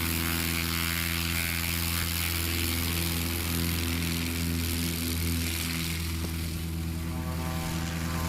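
A light sport STOL propeller plane takes off, its engine droning loud and steady with a constant propeller hum that shifts slightly in pitch as it climbs away, alone with no talk.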